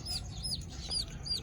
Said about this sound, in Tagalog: May 5 lang siyang sisiw. Yan ay native.